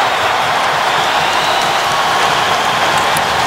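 A hockey arena crowd roars loudly and steadily after a goal in an NHL game between the Dallas Stars and Columbus Blue Jackets, a dense, unbroken wash of cheering and applause.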